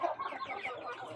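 Hens and a rooster cluck together close by in a farmyard flock, a steady run of overlapping clucks and throaty calls with no pause.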